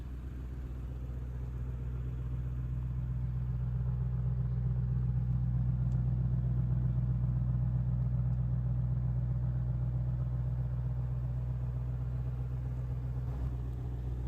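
Lexus GS430 engine runs with a smooth, steady low rumble, sounding close and even throughout with no voices.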